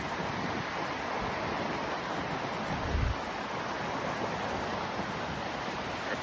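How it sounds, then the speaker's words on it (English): Saya Creek in Glacier National Park flows in a steady, even broadband rush, heard alone and continuous with no talk over it. "That's the Saya Creek."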